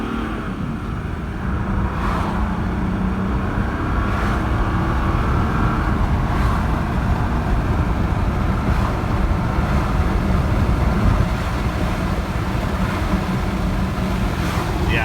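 A naturally aspirated 1995 Mercedes-Benz E300 diesel with the OM606 engine, heard from inside the car as it accelerates, a loud steady low engine drone mixed with road and wind roar throughout.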